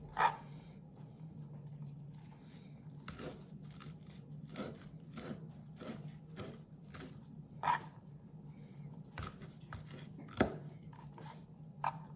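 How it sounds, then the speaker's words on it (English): Green tomatoes, pulled off their stems, being loosely chopped with a knife on a board, heard as irregular close, crisp cuts and thuds spread through a quiet room. "take them off the stems and then loosely chop it"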